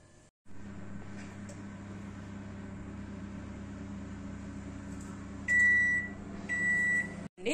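A kitchen oven runs with a steady low hum and fan drone while a pizza bakes, then a few loud electronic beeps sound near the end, with no talking.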